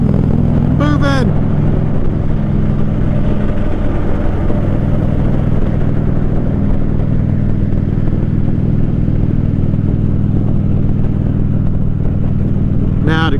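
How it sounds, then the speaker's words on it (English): Impala car engine accelerating in traffic, a loud steady low drone of the motor heard from inside the car, with brief squeaky sounds near the start and end. "Come on, little car, get moving. Get that Impala moving."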